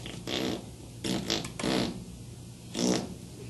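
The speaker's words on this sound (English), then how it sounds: "Fart noises." A series of four buzzy, sputtering fart noises with short gaps between them, fairly loud and close, with no talking over them.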